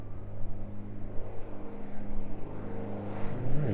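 An aircraft takes off from the runway at East Midlands Airport, a distant, pulsing low rumble of engines that holds steady and swells slightly toward the end.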